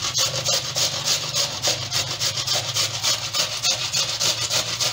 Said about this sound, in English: we're gonna grate them all together